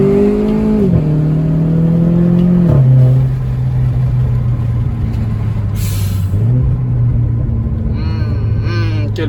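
Peugeot 607 car accelerating hard at full throttle, a loud steady engine drone with a rising then settling pitch and a gear change, close by, with people talking over it.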